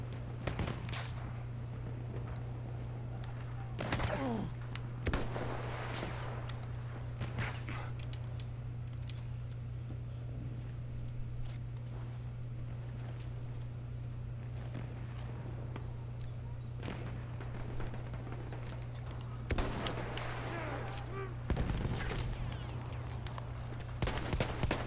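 Gunfire from Battlefield 1 Conquest multiplayer: scattered loud shots and bursts crack over a steady low game drone, clustered near the start and again toward the end.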